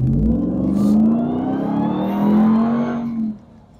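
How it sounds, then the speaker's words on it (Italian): A 2024 Ram TRX pickup's engine roars after a downshift into first gear, a loud, deep rising rev that holds for a few seconds before the throttle lifts and the sound drops off abruptly. "Fagli una scalata in prima, vai giù tutto."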